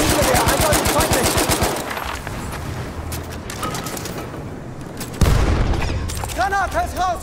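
Rapid machine-gun bursts rattle in the Battlefield 1 Monte Grappa battle, then a sharp heavy boom hits, followed by more scattered gunfire and distant explosions, with voices calling out over the combat.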